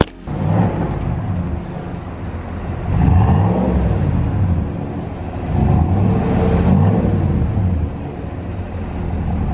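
A 2019 GMC Sierra Denali pickup with a cat-back performance exhaust revs up twice, each deep rumbling swell rising and then falling back to a steady idle, loud and close with no talking.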